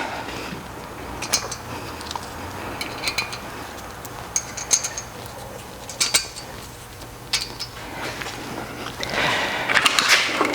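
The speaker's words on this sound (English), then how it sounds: "And then 6 flat washers." Small metal flat washers clink and tap as they are fitted on a 100 Series Land Cruiser's front brakes, scattered light metallic ticks close by over a low steady hum.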